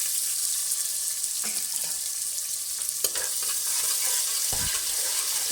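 Chopped medium-sized onion frying in a pan for a spinach and mash dal curry, giving a steady close hiss with occasional clinks and stirring scrapes, no talking.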